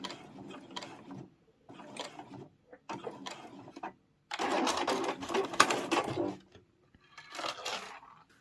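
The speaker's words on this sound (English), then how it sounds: "and then stitch to the outside edge, and then stitch back across." Sewing machine stitching a lanyard in short bursts: several stop-start runs of rapid mechanical needle clatter separated by pauses, with one longer, louder stretch in the middle, close and clear.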